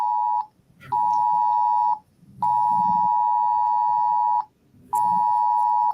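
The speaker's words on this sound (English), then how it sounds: "That's my phone telling me that I've got the tornado warning in my area" A phone sounds a tornado warning alert: loud, steady electronic tones that repeat in long pulses with short gaps, with faint background noise between them.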